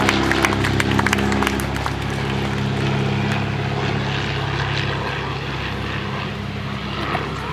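A Great Lakes Speedster propeller biplane makes a photo flyby at Old Rhinebeck, its engine drone loud and close at first with a strong buzzing hum, then easing slightly as it passes.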